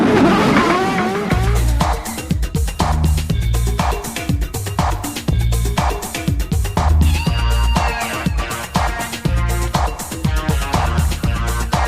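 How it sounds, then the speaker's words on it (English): IndyCar race cars from the 1994 season roar past at high revs with tire squeals, the loud, pulsing engine sound mixed with rhythmic music. "Start your engines."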